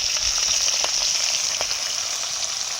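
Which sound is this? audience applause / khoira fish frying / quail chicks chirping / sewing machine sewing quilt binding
khoira fish frying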